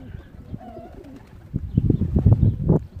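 A racing pigeon coos close by in a short series of soft, low, throaty rolling calls that grow louder toward the end.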